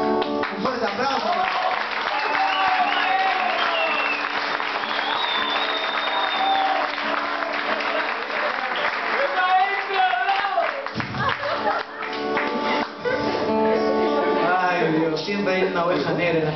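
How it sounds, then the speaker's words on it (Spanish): Applause from a crowd at a live music show after a guitarist is introduced, a sustained wash of clapping with cheering and voices carrying over it for the whole stretch. "Un fuerte aplauso"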